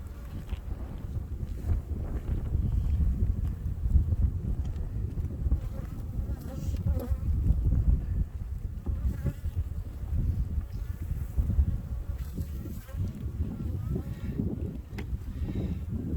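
Honey bees buzzing at close range during a spring inspection of a weak beehive colony, a dense continuous drone with some wind buffeting the microphone, and no voices.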